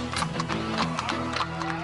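LAPD mounted patrol police horse walking, hooves clip-clopping in a steady rhythm under background music, with a hint of voices.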